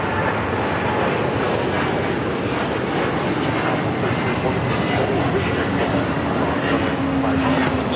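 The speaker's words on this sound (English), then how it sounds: "That's United Airlines Flight 39 taking off to Tokyo Haneda on the 787-10 Dreamliner." A United Airlines Boeing 787-10 Dreamliner takes off at LAX, a steady broad roar of jet engines filling the whole stretch at constant loudness, with a faint rising tone near the end.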